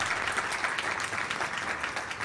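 Audience at a panel event applauding two people standing up, a dense, even round of clapping from a crowd, continuous and moderately loud with no voices.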